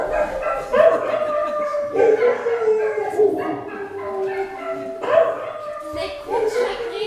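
Hunting hounds howling and baying in woodland, drawn-out echoing howls rising and falling in several waves, fairly close, with speech-like vocal tones mixed in.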